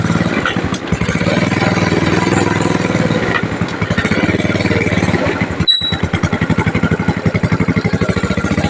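Motorcycle ridden on a roving patrol in Bacolor, Pampanga, its engine a loud, close, rapid pulsing putter that holds steady throughout, with a brief break midway.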